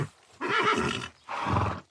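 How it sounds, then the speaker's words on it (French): A horse whinnies twice in quick succession, each call a loud, close, quavering burst of about half a second, with a short gap between them and no talk. "Le hennissement de ton cheval te sort de ta rêverie."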